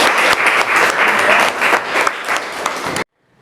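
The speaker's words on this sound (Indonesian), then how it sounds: "Oke, tepuk tangan untuk" Students in a physics classroom clap together in a dense, loud burst of applause lasting about three seconds before it cuts off abruptly.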